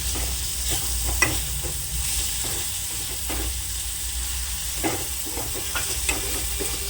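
Drumstick leaves and tomato fry in a pan with a continuous close sizzle, broken by occasional stirring clicks and scrapes and a soft hiss of steam.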